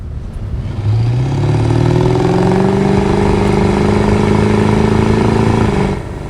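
A 2002 Ford F-250 Super Duty Lariat pickup with the 7.3 Powerstroke diesel accelerates under heavier throttle, a loud, steady engine drone rising in pitch through smooth shifts from inside the cab, with no talking.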